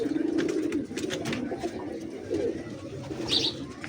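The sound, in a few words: pigeons cooing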